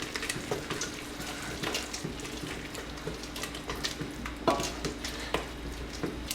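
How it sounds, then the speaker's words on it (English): Ingredients are mixed by hand into dough for an Indian dahl curry, giving soft wet squelches and light scraping. The sounds are quiet and irregular, with no one talking. "now all we're going to do is add this to our dough and just get it all in there. And give it a nice mix."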